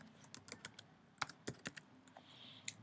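Someone types on a computer keyboard in quick irregular bursts of crisp, close clicks. A short pause falls between the runs of keystrokes, and no voice is heard.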